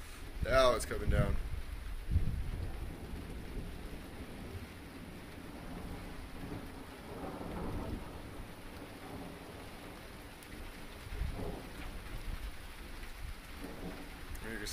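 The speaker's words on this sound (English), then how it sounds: "It's starting to pour." Heavy rain pours during an Arizona lightning storm, a constant hiss of drops with deep rolls of thunder rumbling at the start and again later, while a person talks briefly over it.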